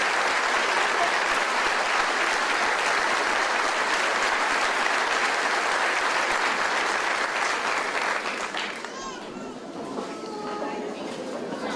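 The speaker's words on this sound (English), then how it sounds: "we could have a round of applause" A crowd at an army graduation ceremony gives sustained applause that thins out toward the end, giving way to scattered murmurs.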